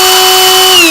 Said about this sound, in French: l'affleureuse, pour la démarrer, c'est pas un bouton où on appuie